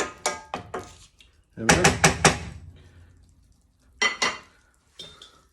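Pork and basil for a Thai dish stirred in a pan: clattering scrapes and knocks of utensil against metal in short bursts, with a person speaking briefly between them.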